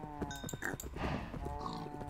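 Cows in a Minecraft Skyblock game give short, low moos amid dense game background sounds, with brief tonal chimes layered over the continuous bed.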